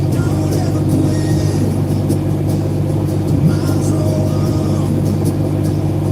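Cab interior of a semi truck with the engine underneath: a steady loud low rumble throughout, with faint talk under it.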